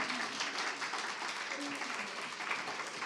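Audience applause at a live fashion talk event, a dense, steady wash of many hands clapping that fills the whole moment at even loudness, with faint voices mixed in underneath.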